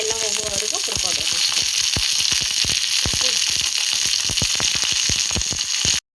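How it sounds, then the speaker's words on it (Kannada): Chopped okra frying in a pan until its slime cooks off, a loud continuous close sizzle with rapid scraping stirs and clicks from a spatula throughout. "ಹಾಗೆ ಅದು ಬೆಂಡೆಕಾಯಿಯಲ್ಲಿರುವ ಲೋಳೆ ಎಲ್ಲ ಹೋಗುವವರೆಗೂ ಹುರ್ಕೋಬೇಕು"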